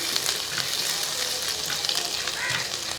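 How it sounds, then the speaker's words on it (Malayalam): Garlic and ginger stirred into a hot oiled pan for a cauliflower and chickpea curry, giving a loud, constant close-up sizzle with light stirring scrapes. "വെളുത്തുള്ളി അതേപോലെ ഒരു ടീസ്പൂൺ അളവിൽ ഇഞ്ചി ചെറുതായിട്ട് അരിച്ച് വെച്ചിരിക്കുന്ന അതുകൂടെ ഇതിൻ്റെ അകത്തോട്ട് ഇട്ട് കൊടുക്കും ഇനി ഇളക്കി"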